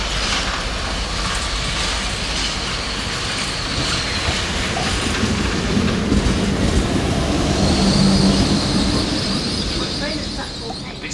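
Passenger train standing at a platform at Doncaster station, a steady loud rumble of engine idle and rail mechanisms with faint squeals and clanks, continuous throughout.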